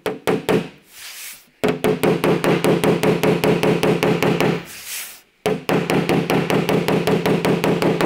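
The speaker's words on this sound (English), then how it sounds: "So, trusty panel hammer action." A panel hammer knocks a dent out of the body panel of a Talbot Sunbeam Lotus car: fast, evenly spaced metallic taps, loud and close, in three runs separated by two short pauses.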